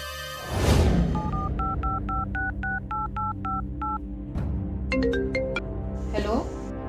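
A telephone keypad is dialed with a steady run of about a dozen two-tone beeps, followed by a shorter burst of beeps and a ringing tone, all close and clear over a low room hum, with brief talk near the start.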